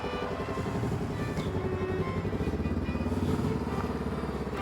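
A motorcycle engine starts and runs steadily, with a loud continuous idle and a rattly, clattering tone. It is heard on a roadside stop in Germany during a round-the-world motorcycle trip.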